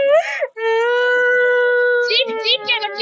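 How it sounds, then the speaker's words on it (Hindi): A young girl screams and cries loudly, a long sustained wail followed by choppy sobbing bursts, close and intense throughout. "चीख चीख के बच्ची रो रही है।"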